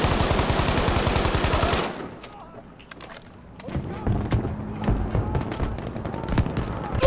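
Rapid bursts of Battlefield V multiplayer gunfire open the clip, then scattered single shots and clicks follow under quieter game sounds.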